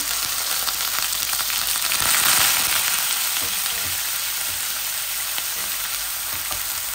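Grated small red onion hits very hot oil and sizzles loudly and continuously, close up, with occasional stirring scrapes and crackles and no talking.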